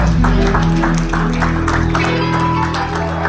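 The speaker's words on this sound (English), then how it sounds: "you ought to give God a hand clap of praise" Church congregation clapping in praise during a worship service, a dense, sustained wash of applause under loud organ and music, fairly close and steady throughout.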